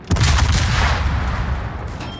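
A heavy naval gun salvo booms in World of Warships, one loud blast that rolls into a long, dense rumble and slowly fades with no voices.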